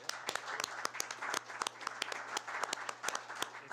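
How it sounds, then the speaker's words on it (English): A small audience at a city council meeting applauds, a brisk, steady patter of individual claps that stays fairly faint and even throughout. "It definitely deserves a round of applause."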